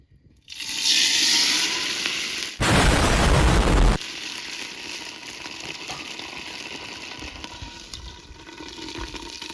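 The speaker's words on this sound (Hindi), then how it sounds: "ये तेल अभी अच्छे से गर्म हो गया है, इसको हम डालेंगे इस हरीसा में जो हमने साइड में रखा था।" Hot oil poured onto chicken harisa, an Iranian dish, hits with a sudden loud hissing burst lasting over a second. Before and after it, a steady crackling sizzle carries on close by.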